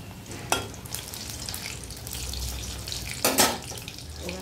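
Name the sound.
taro stolons added to a frying pan, sizzling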